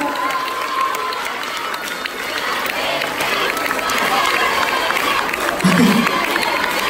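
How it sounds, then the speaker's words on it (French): Audience applause and crowd noise at a dance competition in St Saulve, a steady broad wash of clapping throughout with a brief louder swell near the end. "je mets encore une fois un tonnerre d'applaudissements pour les groupes qui ont participé à cette catégorie"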